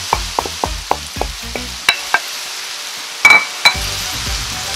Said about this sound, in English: Now I'll return the beef to the pot.